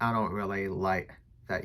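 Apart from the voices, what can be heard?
No distinct noise like a dog, phone or traffic.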